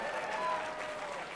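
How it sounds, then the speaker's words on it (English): Audience at an awards dinner applauds a donated prize of fine spirits, a brief, fairly faint wash of clapping lasting just over a second. "I imagine this one will also get a giant round of applause"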